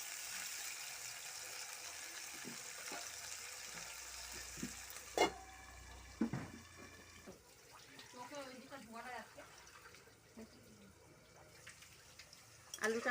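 Salted, torn potato pieces fry in a covered pan, a sizzling hiss that is strongest at first and then thins out, broken by a few sharp knocks and clatters of cookware.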